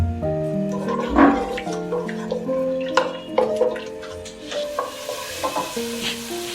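A cup of water is added to browning onions in a pan for curry pakora, with a loud sizzle and bubbling as a spoon stirs and scrapes, the clatter coming in close, uneven bursts.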